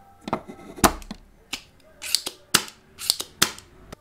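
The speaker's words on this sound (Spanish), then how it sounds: "El sonido del extractor al extraer la soldadura debe de ser como lo escuchan." A spring-loaded desoldering pump removes melted solder, firing several times, each trigger giving a sharp snapping click followed by a short suction hiss, spaced irregularly and close by.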